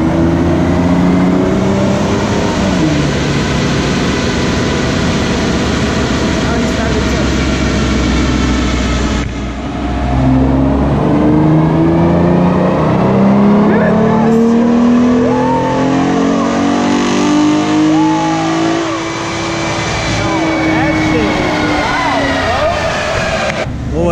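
A car engine revs hard on a dyno at a loud dyno day event, roaring steadily with rising and falling pitch sweeps as it climbs through gears, nearby and dominant, while people talk over it.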